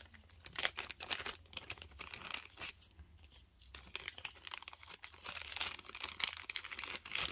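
Soft, continuous crinkling and rustling of a plastic bag, irregular crackles spread across several seconds, quiet and close with no talking.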